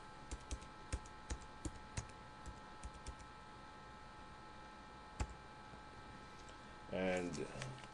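Light keyboard typing on a computer, a quick run of soft clicks followed by a single tap, faint against a steady background hiss, with a voice briefly speaking at the end.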